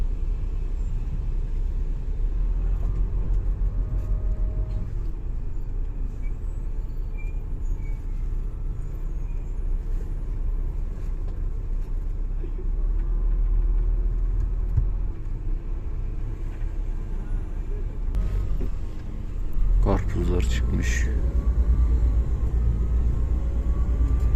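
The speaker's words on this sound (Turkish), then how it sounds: "Trafik oldukça yoğun gözüküyor." Heavy city traffic in Urmia, Iran, makes a continuous low engine rumble close by. It holds steady for a long stretch, with a brief harsh horn-like blare near the end.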